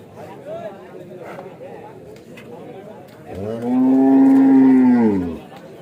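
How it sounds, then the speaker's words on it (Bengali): A cow at a crowded cattle market before Eid sacrifice, agitated while men try to tie it, lets out one loud, drawn-out moo lasting about two seconds, preceded by background chatter and crowd noise. "এই দেখেন গরু হাটে এসে পাগলামি শুরু করে দিচ্ছে, বাঁধার চেষ্টা করছে দেখেন"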